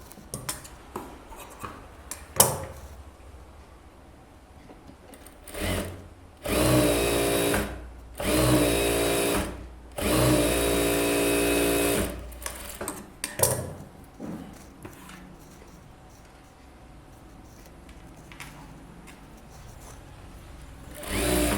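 An electric sewing machine stitches a blouse seam in several bursts of steady, fast whirring, each running a few seconds, separated by quieter handling noises and small clicks.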